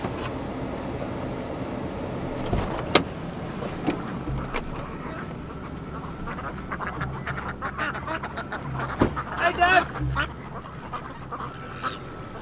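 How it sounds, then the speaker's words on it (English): Ducks quack inside a dark coop on a winter night, scattered calls rising over a steady low hum, with a few louder bursts near the end and no talk. "Ducks don't mind the extra bit of warmth in the winter."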